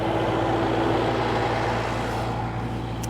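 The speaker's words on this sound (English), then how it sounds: "look at the tractor" A tractor engine runs at a steady, loud idle in a wet, muddy field, a constant low rumble with no talk.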